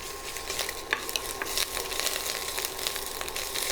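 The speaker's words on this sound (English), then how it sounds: "1 tablespoon of ginger garlic paste. Let's saute that." Ginger garlic paste sautéing in a hot pan, giving a close, constant crackling sizzle with quick spatters and light scraping of a stirring spoon throughout.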